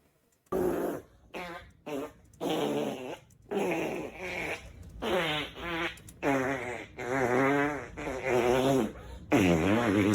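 A person imitates a fart with their mouth, blowing a series of wet, buzzing raspberries in uneven bursts, some short and some drawn out and wobbling, close and fairly loud.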